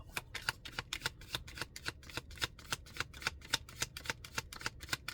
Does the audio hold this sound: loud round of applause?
no